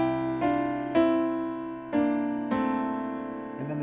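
Piano plays a song's interlude with both hands, rich chords over low octaves struck about five times in a steady rhythm, each sustaining and fading, with no voices.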